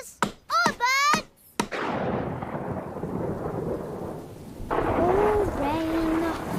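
Cartoon rain and thunder: a sustained broadband wash of rain with a low thunder rumble, starting after brief character voices and continuing under further talk near the end.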